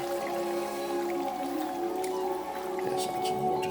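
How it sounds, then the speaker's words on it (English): Water is poured into a pot of chicken while cooking chicken rice, giving a soft, steady liquid trickle with light splashing over a faint background hum. "add some water to the chicken"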